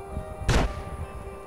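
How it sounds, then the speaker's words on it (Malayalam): A single gunshot bursts out in GTA San Andreas during a zombie apocalypse mode, one short loud blast over a quiet game background. "ആരെ വെടി വെക്കുന്നുണ്ട്?"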